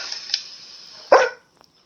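A single sharp bark from a puppy in the Fallout 4 video game rings out close and loud over a faint, steady background hiss, then fades into near silence.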